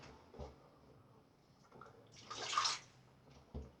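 Water runs briefly into a basin onto crystallised shaving soap, a gentle splashing swell that builds and fades over about a second, with faint clinks before and after.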